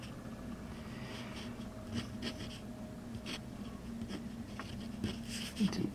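Hongdian 517S fountain pen with an extra-fine nib writing on paper, a faint, steady nib scratch with soft strokes and occasional light taps, close and quiet with no talking.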